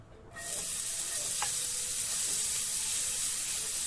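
Onions frying in a pan start a sudden loud sizzle that holds steady and bright after a short quiet moment, with one small clink, no talk.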